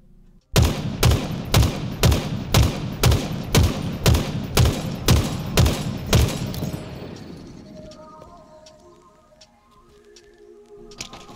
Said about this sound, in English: The Bandit Rifle is particularly good up close, where it's 3 shots to a Spartan and a melee to get a kill.